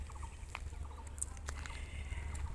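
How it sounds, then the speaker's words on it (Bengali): Scattered bird calls by a river, short chirps and a few gobbling or clucking notes, fairly faint against a low steady outdoor rumble, with no voices. "এখানে এলে আপনারা শুনতে পাবেন পাখিদের কলকাকলি"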